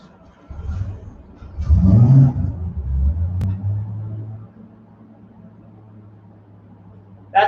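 Ameri-Barra 4200 closed-deck engine on a dyno, a low rumble that swells loudly as it revs then settles into a steady drone and fades down, with speech briefly cutting in at the end.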